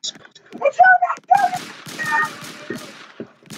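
Gunfire in the Roblox game Brookhaven comes as a scatter of sharp, quick cracks that are mostly bunched in the middle, mixed with a player's voice talking over the shots.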